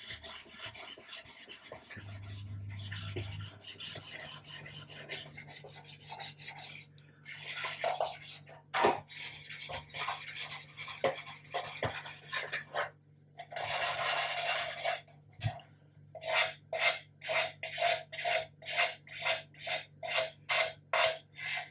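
Sandpaper rasps along a wooden part for an Amati 1/80 scale Endeavour ship model, starting as a steady scrubbing and ending in a run of short, rhythmic back-and-forth strokes, close up with a low hum beneath.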